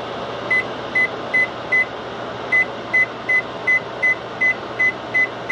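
A microwave oven gives short, sharp electronic beeps in two evenly spaced runs, four beeps then a pause and eight more, loud and close over a constant room hum.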